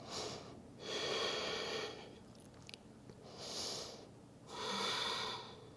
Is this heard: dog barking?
no